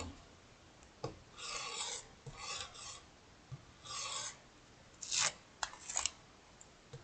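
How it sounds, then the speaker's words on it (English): A brand new blade scrapes against fly-tying material in a series of short, sharp rasping strokes, close and distinct, followed by a few quick clicks and taps in a quiet room. "if you hear that sharp scrape, that's because this is a brand new blade on here."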